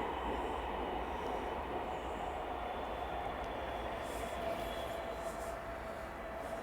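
A train passing near an active canal: a steady rumble of rolling wheels and carriages, constant and fairly distant, with faint squealing, and no voices heard.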